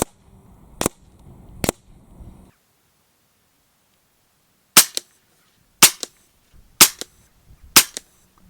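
An FX DRS Classic 600 FAC .22 air rifle fires six sharp, loud cracks: two close together near the start, then after a silent gap four more evenly spaced about a second apart.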